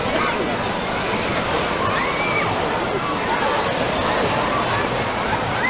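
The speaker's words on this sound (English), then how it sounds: "Right now the waves are going." Water churns and sloshes steadily in an outdoor water park wave pool at Six Flags St. Louis Hurricane Harbor, a continuous close wash of surf with faint voices and distant chatter mixed in throughout.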